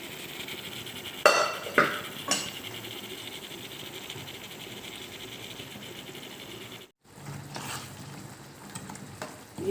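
Mutton chops simmering in gravy with green masala in a pan, a steady soft sizzle and bubble broken by a few clinks of a utensil against the pan and a brief pause.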